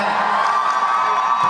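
A large audience at a Spider-Man: Far From Home fan event with Tom Holland and Jake Gyllenhaal gives loud, sustained cheering and applause, a continuous wash of crowd noise throughout.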